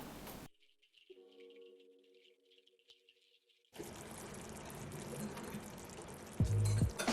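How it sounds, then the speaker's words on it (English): Chicken stock is poured into a pan of chicken for loh mai gai, a brief liquid trickle after a quiet start, followed by a louder stretch of wet hiss and a heavy clunk near the end. "And pour in chicken stock and reduce."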